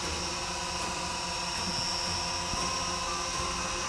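Steady high-pitched whine of an SG900 GPS quadcopter drone's motors during takeoff, loud and continuous with a droning buzz, no talking.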